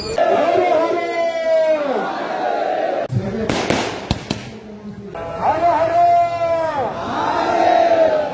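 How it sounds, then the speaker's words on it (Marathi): A dense crowd fills the overnight renovation festival of the Pandava-era Sapatnath temple in Sarmale village, Sawantwadi, Konkan. Loud voices carry throughout, broken midway by a short burst of sharp crackling bangs. "लोकांची इतकी गर्दी आहे ना"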